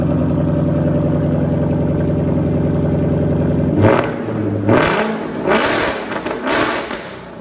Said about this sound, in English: go ahead, rev it up